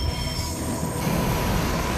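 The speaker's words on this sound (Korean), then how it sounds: "26개의 거대한 레일이 실린 열차가 곡선을 그리기 시작하는데" A train loaded with 26 long steel rails rounds a curve at a high-speed rail construction site, its wheels squealing in a loud, continuous metallic screech over a rumbling roll of railcars.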